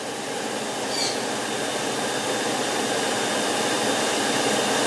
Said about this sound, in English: this is the Miele. You see how quiet the Miele is.